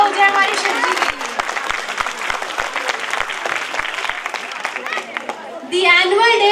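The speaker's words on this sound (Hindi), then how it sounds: "एक बार जोरदार तालियां हो जाए हमारी शिवजी के लिए।" Audience applause at a school annual day function, steady dense clapping from a crowd that swells louder near the end, with talk and chatter mixed underneath.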